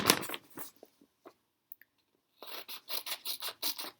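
Scissors snip through folded paper in a quick run of short, crisp cuts, with a few soft rustles first, then a rapid, even series of close snips.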